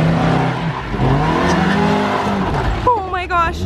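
A lifted off-road Mazda Miata crawling over rocks, its engine revving and straining loudly with scraping and tire noise, while people talk excitedly nearby.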